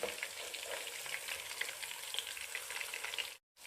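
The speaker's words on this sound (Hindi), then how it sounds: "5 मिनट लगे हैं एक साइड पे फ्राई होने में।" Wazirabadi fish fries in a pan over a low-to-medium flame, giving a steady, dense sizzle that holds evenly before cutting out briefly near the end.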